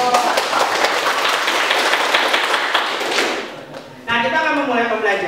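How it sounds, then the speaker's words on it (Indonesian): A class in an Indonesian teacher-training lesson claps briefly, a burst of many hands that fades out, followed by someone speaking. "Tepuk tangan dong."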